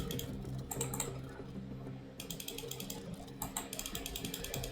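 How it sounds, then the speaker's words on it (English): Mouse clicking through contract negotiations in F1 Manager 23, a dense run of rapid, sharp clicks in bursts with a short lull in the middle, fairly close and with no talk. "It's gonna be a lot of clicking."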